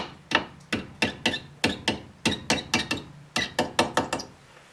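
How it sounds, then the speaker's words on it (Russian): Sharp metallic hammer taps drive a cotter pin into the castle nut of a VAZ steering tie rod end, about fifteen close, loud strikes in uneven clusters with no talking. "Молоточком мы то добьем."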